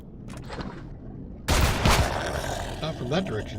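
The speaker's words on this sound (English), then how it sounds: "The little bastard's immune to shots." Weapon shots in the survival game Empyrion, a sudden loud burst of rapid gunfire cutting in after a quieter stretch, with a voice speaking alongside the shooting.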